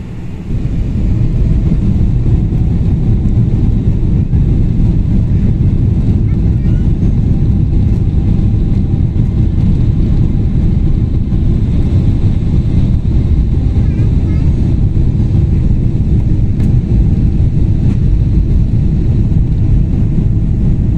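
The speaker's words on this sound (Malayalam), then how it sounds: "ഫ്ലൈറ്റ് ഇതാ ഫൈനൽ ടേക്ക് ഓഫിനുള്ള റൺവേയിലേക്ക് കടന്നു. ഇനി ആ ടേക്ക് ഓഫ് നിങ്ങൾ ആസ്വദിച്ചോളുക." Airliner rolling onto the runway for takeoff on a Kochi to Dubai flight, heard from inside the cabin as a steady, loud low engine rumble and roar throughout, with a voice speaking over it.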